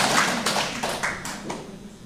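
Scattered clapping from a church congregation at a priest's retreat talk in Seoul, a broad, echoing wash of many hands that fades gradually over two seconds, distant and unaccompanied by voices.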